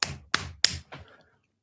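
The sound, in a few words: hand clapping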